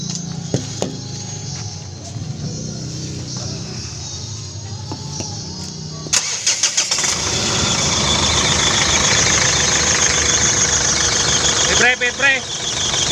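A Mitsubishi Strada engine cranks and catches about halfway through, then runs with a loud, close, rough idle; clanks and a voice come before the start.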